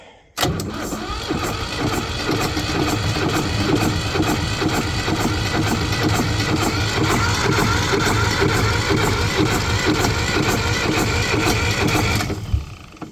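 A Demag SC30 machine's engine is cranked with starting spray in its intake, the starter whirring loudly and continuously for about twelve seconds before cutting off abruptly, close up and with no one talking.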